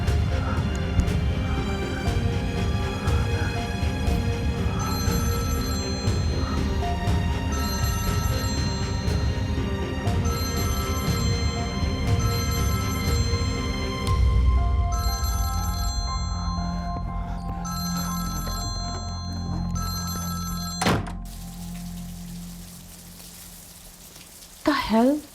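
A telephone rings unanswered in a drama scene, repeated bright ring bursts in a steady pattern over a soft rain-like wash, stopping abruptly near the end.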